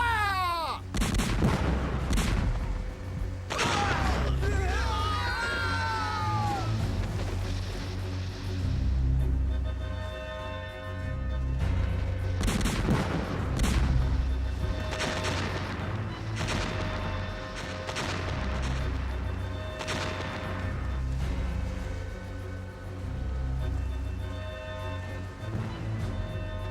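Ship's guns fire during a battle in a pirate audio drama, sounding as repeated heavy booms over a constant rumbling din. Shouts and other effects mix in across the long stretch.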